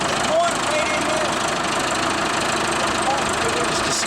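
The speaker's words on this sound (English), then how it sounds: "we've now got Dave up in the tractor, and we're going to push this wheel in a little bit" A tractor engine idles steadily while getting ready to push a wheel during a farm repair, its loud, even rumble filling the whole stretch with slight knocking vibration and faint voices beneath.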